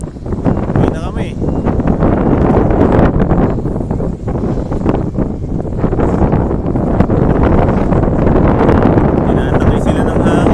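Strong outdoor wind buffets the microphone with a loud, continuous roar and rumble while people talk over it, during pigeon training before rain.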